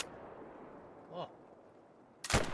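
A single loud gunshot rings out near the end, set in a Scottish hunting video game while stalking a haggis, following a stretch of quiet ambient background and a short faint chirp.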